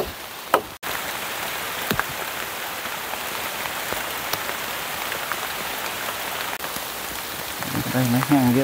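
Heavy rain falls steadily during a dry-wood cutting session outdoors: a dense, even hiss of drops on surfaces, with a sharp knock near the start and a brief voice at the very end.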